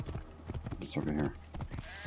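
Horse hooves clip-clop in the video game Assassin's Creed Origins, a quick rhythmic patter of steps close by, mixed with game sounds and someone talking over them.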